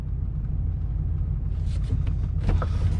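A Chevrolet Suburban engine idles in park, a low steady rumble close by, with a few faint clicks and rattles near the end and no voices.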